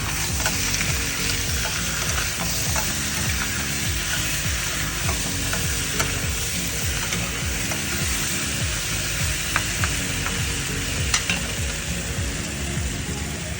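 Marinated pork ribs frying in a hot pan, a loud, dense, continuous sizzle with occasional crackles and stirring clinks, close up and steady throughout.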